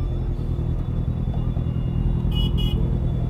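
Steady low rumble of idling road traffic stopped at a red light, heard from a superbike, with engines droning continuously and a short double toot of a horn near the end.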